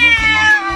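A cat lets out a single short, loud meow close by, with a rising and falling tonal cry.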